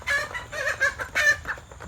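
Chickens clucking close by on a rainy morning outdoors, a run of short, busy calls in quick bursts with a few louder squawks among them, as the birds scuffle around a mud puddle.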